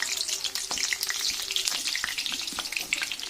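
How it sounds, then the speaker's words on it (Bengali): Chopped onion sizzles in hot oil with cumin seeds tempering in a pan, a steady bright crackle and spatter with a few sharper pops, close and continuous without talk. "জিরে ফোড়ন দিয়ে দিচ্ছে পেঁয়াজ।"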